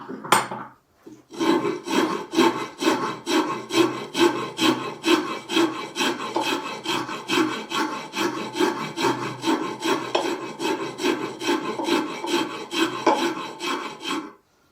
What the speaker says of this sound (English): Must be one of the only one of the few guys that's not using a Shinto rasp.